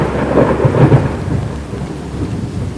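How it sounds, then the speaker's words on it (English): A close, loud crack and rolling boom of thunder after lightning strikes the ground by a willow tree in a graveyard, over steady rain, with no voices. "Lightning. It struck the ground by the willow tree."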